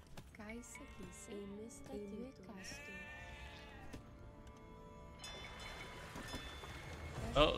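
Sheep bleat repeatedly in the video game Age of Empires 2, several wavering cries in succession over quiet game ambience, followed by a brief noisy rush near the end.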